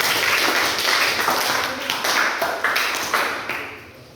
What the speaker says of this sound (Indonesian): kita berikan aplaus dulu untuk kelompok 3